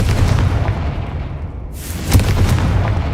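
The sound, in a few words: Confringo/Bombarda explosion spell in video game Hogwarts Legacy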